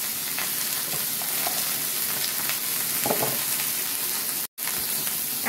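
Neem leaves and eggplant fry in plenty of mustard oil with five-spice and salt, a steady close dense sizzle and crackle with faint stirring and a momentary drop in the middle.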